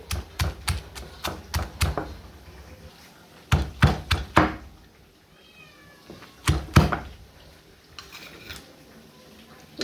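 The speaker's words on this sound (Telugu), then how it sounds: "ఇప్పుడు మనం దీంట్లోనే ఆనియన్స్ టమాటా పచ్చిమిర్చి అన్నీ కూడా దంచేసుకుందామండి" Onions, tomatoes and green chillies pounded in a small stone mortar, with bursts of sharp thudding strikes in quick runs separated by pauses, close and loud, plus a brief cat-like squeal in between.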